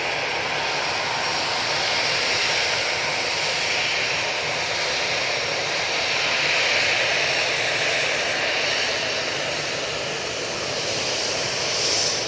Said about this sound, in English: Got an EasyJet coming on in front of us